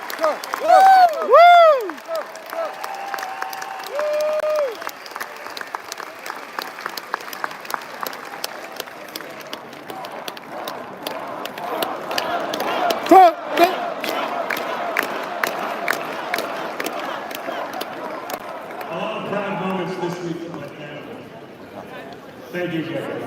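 A large crowd at the RNC 2024 convention in Milwaukee applauds and cheers loudly, with sustained clapping, whistles and shouted whoops rising and falling, and voices carrying over the din.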